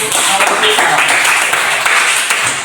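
Students in a primary school classroom clap together in a loud, dense burst of applause that runs throughout, with children's voices mixed into the clapping.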